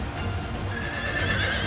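A horse in the Fire Emblem: Three Houses video game gives a loud, close whinny over a brief clatter of hooves, heard alone without speech.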